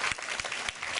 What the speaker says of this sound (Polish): Brawa jeszcze raz dla babci.